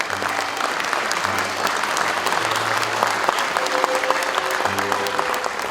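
An audience at a university founding anniversary ceremony claps for nine recipients of 30-year long-service awards. The applause is loud, dense and sustained, and low background music hums beneath it.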